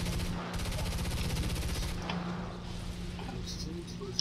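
Aircraft guns in War Thunder hammer at a light pillbox, a fast, continuous stream of rapid shots that stops abruptly midway, followed by quieter scattered game sounds.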